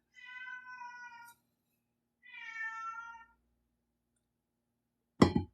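A cat meows twice nearby, two long drawn-out calls about a second each with a pause between, in an otherwise quiet room, followed by a brief sharp knock or clatter.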